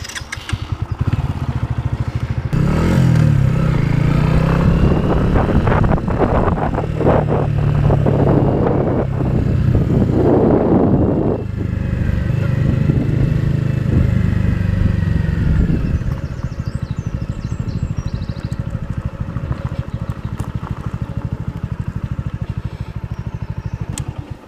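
Masai Scrambler 125 motorcycle ridden along a deserted road during break-in, its engine droning steadily and loudly with shifting pitch as it accelerates, then settling into a quieter cruise toward the end.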